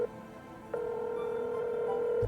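Phone dialing in the sci-fi adventure game Technobabylon: a short tone, then a long steady ringing tone held for about a second and a half before cutting off, clear and close with no talking.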